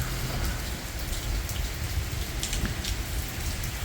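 Steady rain falls on a quiet, empty small-town street near a gazebo, a dense close hiss of raindrops hitting surfaces with no voices, holding even throughout.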